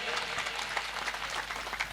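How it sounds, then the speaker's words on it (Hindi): Steady applause from a crowd, a dense patter of clapping that holds at an even level throughout with no voices standing out. "जोरदार तालियां बजाइए।"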